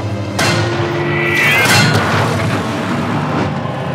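A tank main gun fires in a World War II movie battle against a Tiger tank, one heavy booming blast with a long rumbling tail that fills the clip.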